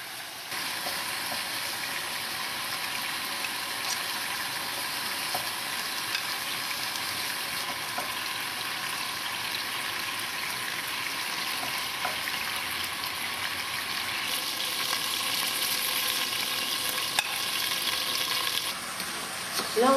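Beef pieces for boeuf bourguignon brown in a cast-iron pot with a loud, steady, close sizzle that holds unbroken for the full stretch, with no talking.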